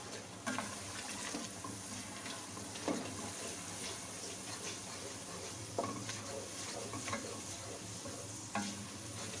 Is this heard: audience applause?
no